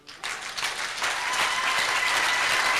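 A church congregation breaks into applause, rising quickly from near silence into loud, sustained clapping from many hands that fills the room.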